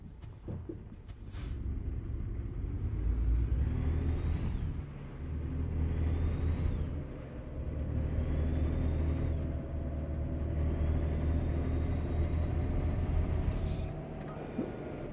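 A Peterbilt truck engine rumbles steadily in a truck simulator game on European roads, a low continuous drone that swells and eases with driving, plus a brief hiss near the end.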